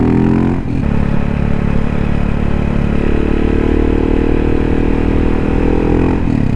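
A 2012 KTM 690 SMCR single-cylinder supermoto motorcycle rides through a corner, its engine loud and close throughout, dipping briefly before holding a steady droning pull.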